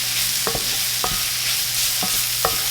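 Spices toast in a hot pan with oil for shakshuka, a steady bright sizzle close up, broken by several short scraping stirs against the pan.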